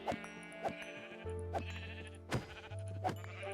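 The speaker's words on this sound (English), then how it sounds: "it will just spawn sheep, and you can see it's pretty quick" Minecraft sheep bleat four times from a mob spawner, clear, close bleats spaced roughly evenly over a steady game hum.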